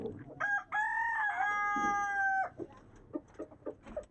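A chicken gives a few loud, drawn-out nasal calls that resemble a duck's quacking, one short and then one long and sustained, followed by softer scattered clucks and rustling close by.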